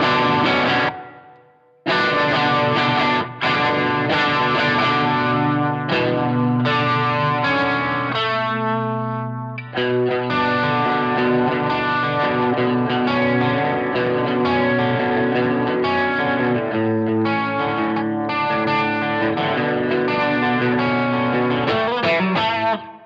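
Electric guitar played through a pedalboard with distortion and chorus switched on, a thick, saturated, shimmering tone with sustained chords and riffs, loud and continuous with a brief drop near the start.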